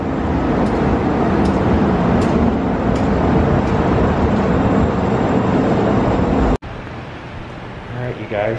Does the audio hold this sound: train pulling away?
yes